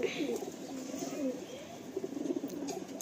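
Madrasi pigeons in a full loft coo softly in repeated low, wavering phrases, with faint chirps and loft noise around them and no speech.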